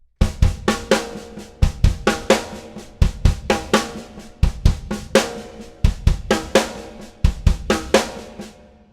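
A drum kit plays a steady, punchy groove, with booming bass drum kicks landing in pairs alongside snare and cymbal hits, loud and close.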